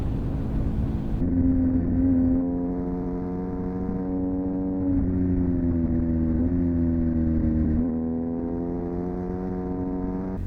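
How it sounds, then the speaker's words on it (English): A BMW R1250R motorcycle engine and exhaust drone steadily while riding on the road, close and loud, with a low humming tone that shifts slightly as the revs rise and fall, with no talking. "the Sony, hopefully, being near the exhaust pipe, should be capturing the sound of the bike"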